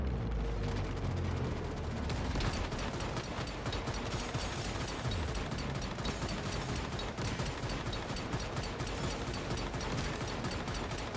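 Dense, continuous barrage of explosions and gunfire during a boss fight in the survival shooter game Once Human, loud and unbroken throughout with rapid overlapping blasts.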